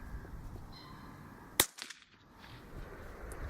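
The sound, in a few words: gunshot through HUSHPOWER Bobcat moderator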